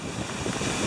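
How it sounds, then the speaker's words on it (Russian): Strong wind on a beach buffets the microphone with a steady, close, rumbling roar that swells slightly toward the end, with no other sounds standing out. "сегодня ветер очень сильный. И дует."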